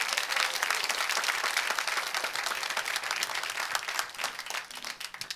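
Church congregation applauding together, a dense steady wash of many hands clapping that carries on for several seconds and thins slightly toward the end.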